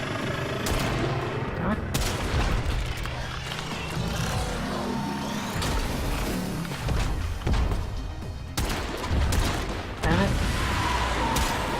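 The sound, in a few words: gunfire in video game Warframe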